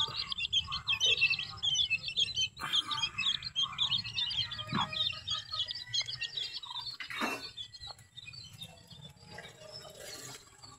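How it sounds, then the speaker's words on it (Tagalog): Newly hatched chicks peep in a rapid, continuous stream of thin high chirps, close and steady throughout, over a low rumble of background noise, with a few brief knocks and rustles. "ito yung bagong sisiw na muli"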